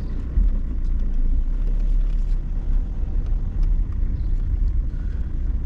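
A 1999 BMW E46 car engine runs and revs, a loud, steady low rumble heard close up with slight swells as it accelerates, and no speech.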